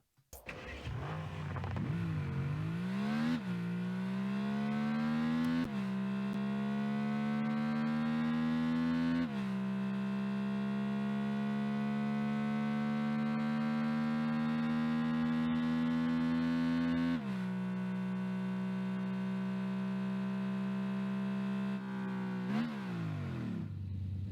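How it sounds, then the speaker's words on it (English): Aston Martin Valhalla engine in Rocket League, a continuous loud synthetic car engine tone that revs up and down in several stepped pitch shifts, steady and close with no talking. "Here's a full demo of the engine audio."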